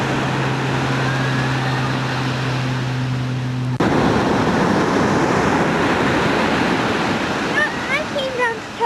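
Ocean surf rolls onto an Oregon beach in a steady, loud wash of broadband noise, with a low electrical hum in the first few seconds and faint bird-like chirps near the end.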